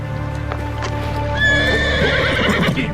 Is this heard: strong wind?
no